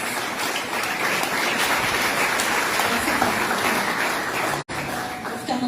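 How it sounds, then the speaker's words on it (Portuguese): Congregation applauding in a church service, a steady dense wash of clapping that fills the space throughout, with one abrupt brief dropout near the end. "Vocês podem aplaudir o nome do Senhor pela vida delas?"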